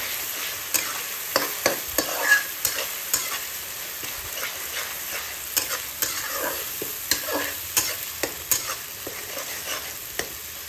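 Green chillies frying in a pan, giving a steady sizzle broken by sharp clicks and scrapes of stirring that recur every second or so, close and fairly quiet with no voices.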